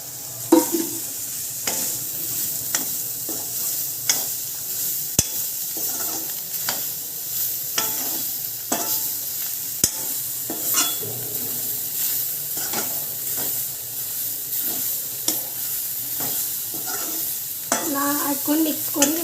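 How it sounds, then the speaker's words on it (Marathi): Soya chunks being stirred and fried in a pan, giving a steady sizzle with repeated scraping stirs throughout, fairly close and alone with no talking. "आता या सोया चंक्स शिजवून पिळलेल्या घालका"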